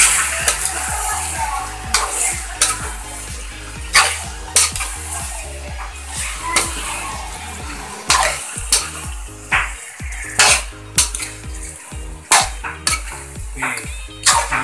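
A spoon stirs chicken mechado in a metal pan, scraping and clinking in a steady, uneven rhythm with clear knocks against the pan over a soft sizzle. No one speaks.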